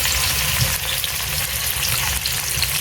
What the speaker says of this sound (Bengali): এবার প্রথমে এই মাছগুলোকে আমি ভেজে নিই